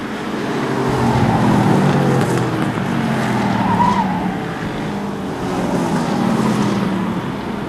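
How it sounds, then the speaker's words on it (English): Race cars roar around a short oval track on the final laps of a qualifying heat, engines droning loudly with swelling passes and tire noise, close and continuous. "1 more lap to go as Dave McDonald, the Tewksbury Mass driver,"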